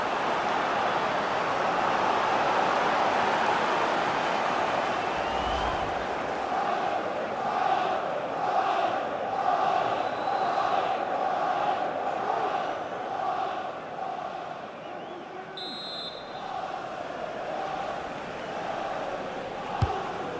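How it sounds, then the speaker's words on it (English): Stadium crowd noise during an Arsenal versus Manchester United match in the FIFA 22 video game, a broad, continuous roar of many voices that swells and eases slightly, with a short whistle-like tone near the end. "Well, just listen to the crowd."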